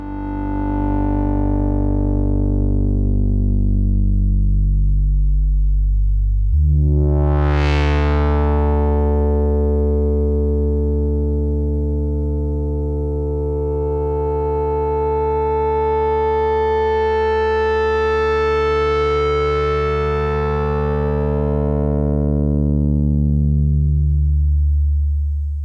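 A generative modular synth patch built on a Zlob Diode Chaos module, running through a filter and VCA, gives a loud, sustained buzzy drone whose filter sweeps sharply up, drops, then swells slowly again.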